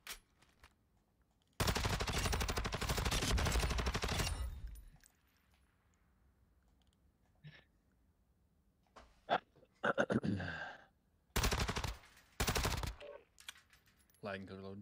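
Rapid automatic gunfire from a weapon in a shooter video game, one long sustained burst followed by shorter sharp bursts and a few single shots, loud and close, with quiet gaps between.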